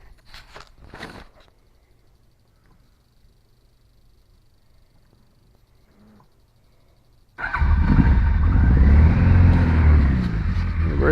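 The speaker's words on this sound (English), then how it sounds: "starts and runs without a choke, and it kind of goes right into a pretty easy idle" An old motorcycle engine, a Motor 111, cold-starts without a choke after quiet handling noises, then jumps straight into a loud, steady, rumbling idle that holds close by.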